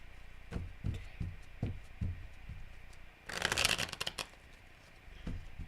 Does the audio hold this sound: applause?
no